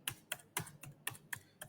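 A quiet computer keyboard clicks through a short burst of typing, entering a ping command at a terminal; about six distinct close keystrokes in an uneven rhythm, with no talking.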